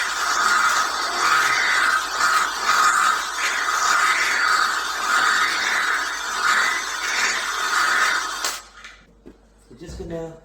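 A drill with an 8mm bit grinds steadily and loudly through a metal ebike rim for about eight seconds, then cuts off abruptly, leaving a few faint clicks and handling sounds.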